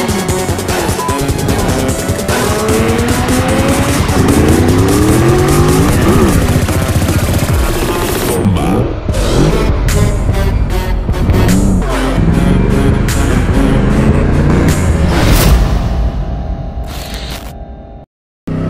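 A Yamaha YZF-R1 crossplane superbike is ridden through city streets, its engine revving hard with rising and falling sweeps through the gears, loud and close, then the sound drops off abruptly near the end.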